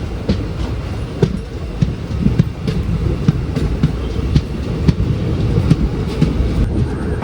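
The Trivandrum North–Nagercoil passenger train pulls out of Parassala station, a close, steady rolling rumble marked by a rhythmic clickety-clack of wheels over rail joints.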